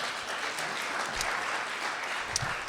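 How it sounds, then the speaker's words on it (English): A theater group's audience gives a brief round of applause, a steady wash of clapping at moderate level with a few louder individual claps standing out. "so a round of applause for her."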